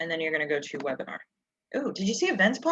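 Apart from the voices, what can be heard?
No everyday noise stands out behind the speech.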